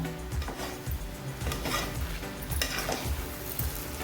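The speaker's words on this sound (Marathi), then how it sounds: "इथे तुळशीची पानं टाकूया दोन तीन मिनटं परतवून घेऊया" Semolina sheera with tulsi leaves being stirred and sautéed in a pan, soft sizzling under a steady rhythm of spoon scrapes and taps against the metal.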